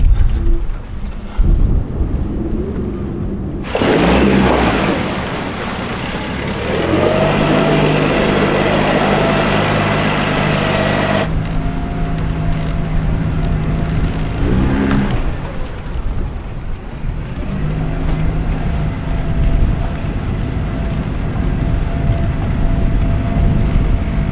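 A catamaran's boat engine turns over and catches, settling into a steady low rumble with harmonic drone, loud and close, amid broadband mechanical noise.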